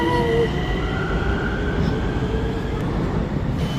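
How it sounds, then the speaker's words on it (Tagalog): Subway train passing through a Bucharest station, a steady loud rumble with a faint squealing whine that holds across the whole stretch. "Ayan na yung subway guys."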